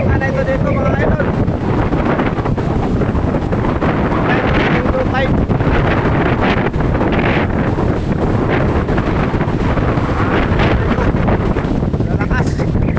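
Strong wind roars across the microphone over crashing surf at a shore in Quezon during a Signal No. 1 storm, a constant loud rush with no break throughout.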